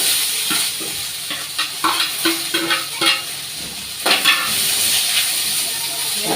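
Onions, green chillies and curry leaves sauté in hot oil with a steady, close sizzling hiss, broken by several sharp scraping and clacking stirs of a spoon against the pan.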